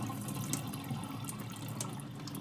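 Water drains out of freshly washed cabbage in a steady, continuous splashing pour, close and moderately loud, with no voices.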